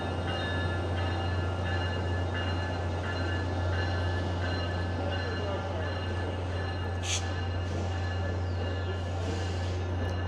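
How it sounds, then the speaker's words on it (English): A Via Rail passenger train pulls out in a busy rush-hour rail corridor near a bus terminal, a steady low rumble and drone holding throughout with a brief high squeal partway, while voices murmur faintly in the background. "And there goes the Via train as well."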